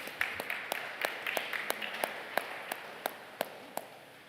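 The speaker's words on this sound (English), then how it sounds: "So give yourselves a round of applause." A few people clap sparsely and faintly at a press conference held with a mayor, with distinct separate claps spread out in a slow, uneven rhythm.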